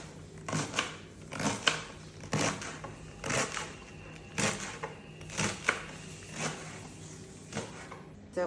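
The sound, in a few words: chopping spinach leaves into small pieces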